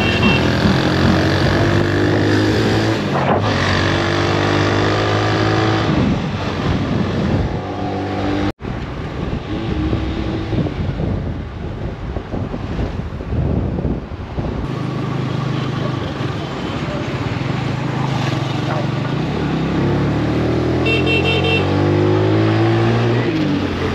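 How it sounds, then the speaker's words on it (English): A motorcycle taxi in Ghana carrying a rider through heavy traffic toward the airport, engine droning and revving close by, with passing vehicles and road noise rising and falling continuously. "I'm taking a moto to the airport at the moment."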